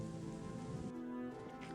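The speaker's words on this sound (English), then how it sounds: "I'm tired of the frickin' rain." Rain falls steadily in the video game The Chronicles of Myrtana: Archolos, a soft, quiet hiss of drops that thins out briefly partway through.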